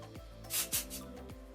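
Two short hissing bursts of hairspray sprayed onto hair, close and fairly soft, over a low steady hum with faint rubbing.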